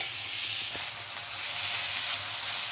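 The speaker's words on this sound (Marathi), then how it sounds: "आपले मसाले सगळे शिमला मिरचीला अशी परतून घेऊया." Bell pepper (capsicum) coated in spices sautéing in a home kitchen pan, a steady close sizzle with soft frying hiss running continuously and no talking.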